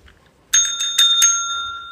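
A pet dings a bell several times in quick succession, four bright metallic rings that leave a sustained ringing tone, close and loud with no talk.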